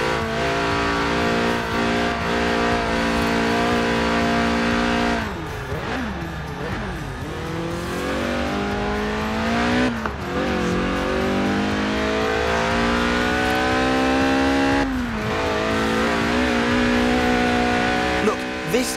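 A Lotus Elise track car in Forza Horizon 4, its engine droning and revving steadily for a long stretch, with pitch sweeping up and down through gear changes and occasional tire squeal.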